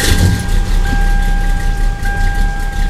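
Hemi V8 engine fitted in a Toyota Camry, running with a loud, deep rumble and steady low throb, close by and without talk.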